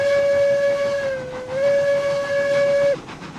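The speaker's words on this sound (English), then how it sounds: "Little deeper whistle there than Montezuma" Wood-burning steam locomotive whistle in the railroad game RailRoads Online: one loud, close, sustained tonal blast of about three seconds that dips briefly in pitch midway, over a steady hiss of steam.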